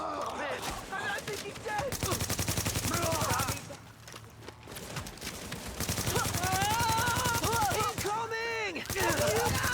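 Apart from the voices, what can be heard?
gunfire in a video game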